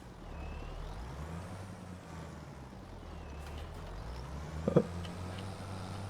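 A tractor in Farming Simulator 25 backs up to hitch a plough, its engine droning low and steady with a faint whine, and a brief hiss and clunk near the end.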